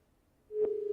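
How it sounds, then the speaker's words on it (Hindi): A telephone busy signal after a call is cut off: a steady electronic tone starts halfway through and pulses once, then swells louder at the end, with no talking. "ये फोन कट गया"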